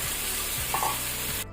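Squid stir-frying in sauce on a high flame, a loud steady sizzle with a few stirring scrapes in the pan, cut off abruptly near the end.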